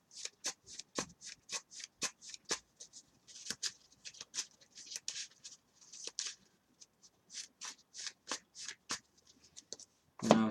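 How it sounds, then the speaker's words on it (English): A deck of playing cards from a Lightsworn trading card game deck is shuffled by hand in quick, crisp bursts of riffling and sliding, close and fairly quiet, with short pauses between rounds and no talk. "You shuffle."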